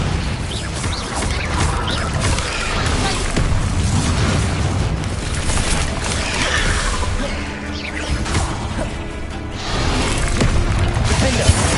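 Bombarda blasting spell in the Hogwarts Legacy video game, heavy crashing explosions and whooshes in a continuous loud barrage of combat.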